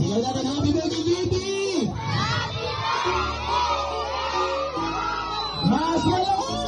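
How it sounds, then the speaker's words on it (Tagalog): A crowd shouts happy birthday together loudly in unison, followed by mixed cheering and babble, with a tonal hum underneath. "Sigaw natin, happy birthday, JP!"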